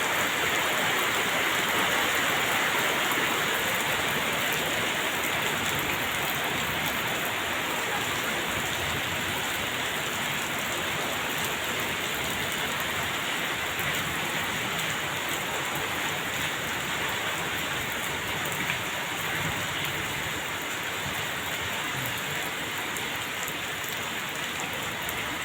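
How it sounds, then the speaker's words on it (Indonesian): Steady rain falling on a Sunday afternoon, a dense continuous patter with no pauses across the whole stretch, moderately loud and close, no voices. "Alhamdulillah minggu sore lagi turun hujan."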